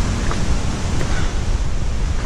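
A mountain torrent beside a small dirt track at the start of a climb rushes steadily in a loud, broadband roar, with some wind noise on the microphone.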